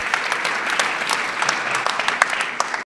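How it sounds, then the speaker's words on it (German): A conference audience claps steadily for a few seconds after a talk at re:publica 2019, dense and lively, then the applause cuts off abruptly. "Applaus"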